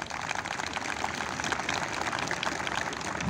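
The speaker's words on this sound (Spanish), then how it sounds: "¡Aplausos para ustedes!" A crowd at a community security event applauds steadily, a dense wash of many hands clapping at once, sustained and fairly loud throughout with no pauses.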